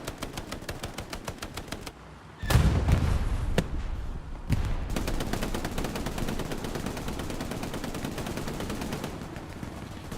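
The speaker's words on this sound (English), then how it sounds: "Rex up here with a nice MG position" Bursts of machine gun fire rattle through a Hell Let Loose battle on Omaha Beach, rapid repeated shots running steadily across the scene with heavier booming blasts mixed in, loud and continuous with no talking.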